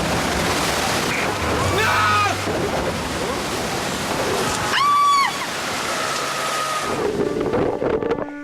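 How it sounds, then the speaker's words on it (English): A mass of water crashes down onto a Terra Nova tent, with a roaring, surf-like rush and wind buffeting the microphone, loud and sustained. Voices cry out in alarm over the noise. "The water crashed down and unerringly found its target"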